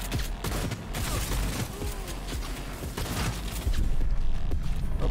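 Gunfire in the video game Cyberpunk 2077: a dense run of sharp shots and clattering bursts, fairly loud and continuous, mixed with mechanical game sounds and growing denser toward the end.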